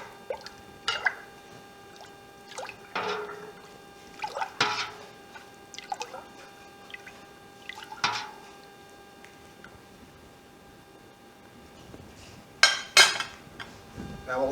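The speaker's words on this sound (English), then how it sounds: "And we can stir this for 1 minute," Milk for homemade gouda cheese is stirred in a pot, giving scattered clinks and scrapes of a utensil against the metal with faint liquid drips, in sparse bursts separated by quiet.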